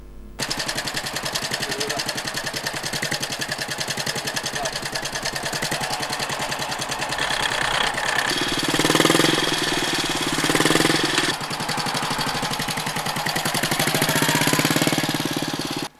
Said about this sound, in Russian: Довольный стрекача мотоцикл под управлением его создателя, или вернее, воз-создателя Владимира Адюкина, выписывает восьмерки